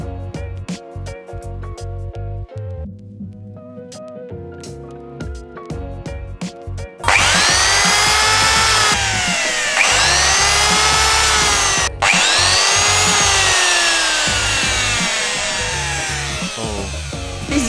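A power drill boring a pilot hole into a small wooden block for a homemade snow bike, a loud close whine that starts after a quieter musical stretch and holds steadily, briefly broken once.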